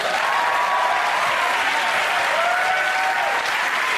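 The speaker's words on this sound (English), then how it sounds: "Now clap your disappointment away." Studio audience at a British TV music panel show breaks into sustained, loud applause, steady clapping filling the whole stretch with no talk over it.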